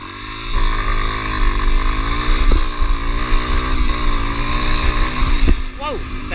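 Trail motorcycle engine running steadily at close range, a continuous droning rumble that swells slightly with throttle changes and a couple of brief bumps, with no clear hard launch surge.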